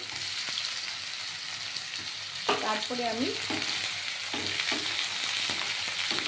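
Potatoes and onions fry together in a pan for a small-fish chorchori, a steady loud sizzle running throughout with occasional stirring scrapes and a brief bit of talk partway through.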